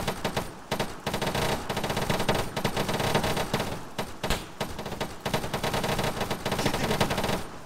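Video game gunfire: sustained automatic bursts crackle loud and close with brief pauses between volleys, a dense rattling fusillade filling the whole stretch.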